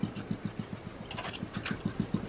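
A Royal Enfield motorcycle engine idling nearby, a low, even thump-thump beat with a steady rapid rhythm and faint hiss above it, no talking.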